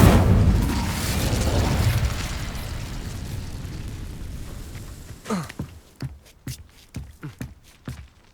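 An Incendio fire spell is cast in Hogwarts Legacy: a loud whooshing, roaring burst of flame swells and slowly fades, then gives way to a run of sharp crackling pops and clicks.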